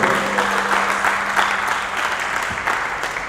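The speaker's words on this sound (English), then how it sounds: "give a round of applause to these guys for even doing this event" Sustained, fairly loud applause from an audience at a press conference for a fight event, a dense wash of clapping hands with a faint hum underneath.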